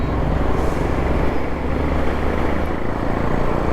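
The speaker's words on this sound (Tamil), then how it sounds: "பயங்கர டிராஃபிக்காக இருக்குது." Heavy road traffic on a flyover at Kerapuram on the outskirts of Bangalore, heard from a moving motorbike: a loud, continuous rumble of engines and wind with no clear gaps, dense and close throughout.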